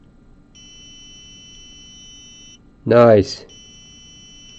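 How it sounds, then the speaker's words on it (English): A small electronic buzzer on a hand-washing timer device drones in a steady high tone, pauses while someone briefly speaks, then resumes at the same level. "You hear that little buzzer?"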